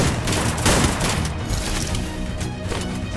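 Dense, continuous gunfire from a shooter video game, a loud unbroken barrage of overlapping shots and impacts with no clear gaps.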